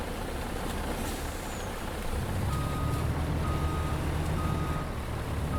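A lorry in Farming Simulator 22 reverses with evenly spaced beeps over a steady diesel engine rumble, the beeping starting partway through and repeating in a regular rhythm.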